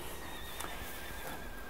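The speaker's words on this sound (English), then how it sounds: "Horses" A horse neighs on a quiet countryside equine farm, one brief whinny set against a steady bed of outdoor noise, with no voices.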